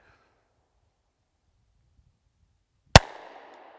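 A single sharp, loud revolver shot from a Taurus 460 Raging Hunter fired at small steel paddle targets 50 yards away, a hard crack followed by a fading outdoor tail after near silence.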